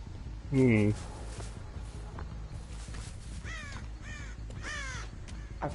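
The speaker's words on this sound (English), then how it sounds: "I forgot about the crows." Several crow caws come in short harsh bursts, closer and louder at first and then repeating more faintly, inside the video game Dead by Daylight, with low in-game ambience and a voice talking beneath.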